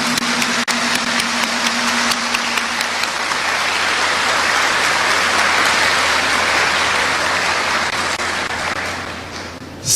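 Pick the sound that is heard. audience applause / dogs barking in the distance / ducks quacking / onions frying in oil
audience applause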